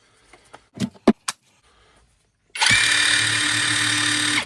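A few quiet clicks and handling knocks, then a cordless impact driver with a freshly fitted battery whirs steadily at high speed, close and loud until the end.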